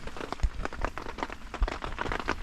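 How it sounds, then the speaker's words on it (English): Heavy rain from a storm patters steadily on a tent from outside, a dense close patter with irregular louder drops and no voices. "Raining outside now."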